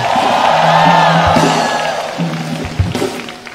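A large audience at a live talk cheers and shouts with whoops over applause, loud and sustained at first, then easing off with scattered voices and calls.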